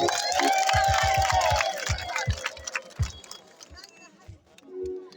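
Church congregation at a worship gathering in Kibungo clapping in rhythm, a quick run of sharp claps followed by scattered, looser claps, with crowd voices and singing beneath.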